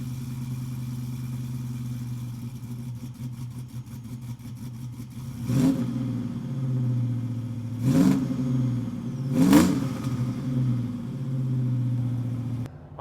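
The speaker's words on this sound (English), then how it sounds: "let's take this truck for a drive." A cammed 2002 Chevrolet Silverado truck idles with a lumpy, loping rumble, then revs in three sharp bursts that swell and fall back to the choppy idle, close and loud.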